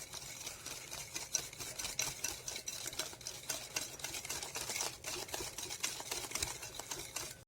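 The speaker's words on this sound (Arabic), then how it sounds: "وهكمل برضو تقليب كده" Cookie dough with vanilla stirred in a bowl, a close, continuous scraping and clicking of utensil against dough and bowl, quiet and alone.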